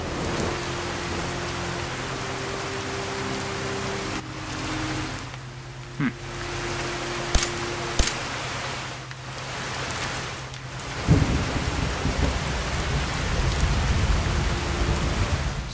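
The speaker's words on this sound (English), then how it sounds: "So I guess that's some new thunder sound effects" Video game sound effects of steady rain pouring throughout, with sharp thunder cracks midway and a deep rumbling roll near the end.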